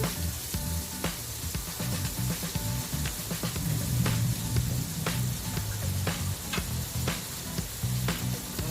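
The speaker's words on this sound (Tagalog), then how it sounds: "So tunawin lang natin yung butter." Butter melts and sizzles in a pan, a close, steady frying crackle with scattered pops and faint stirring knocks throughout, with no talking.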